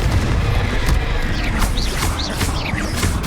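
Bombarda and Confringo spell blasts in Hogwarts Legacy boom loudly in quick succession, with crackling bursts and whooshing magical trails over a dense rumbling background.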